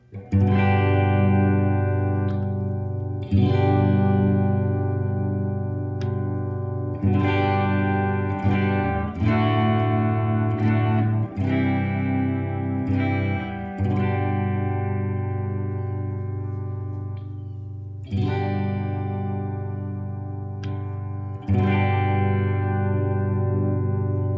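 A 2008 Fender American Select Mahogany Stratocaster with pickups wired in series as a humbucker plays loud, sustained distorted chords, each struck then ringing out, with thick, warm tone and some echo.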